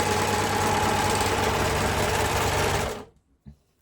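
Janome 6234XL overlocker stitching a rolled hem on scrap fabric, a fast, steady mechanical whir up close for about three seconds, then stopping abruptly, followed by a faint click.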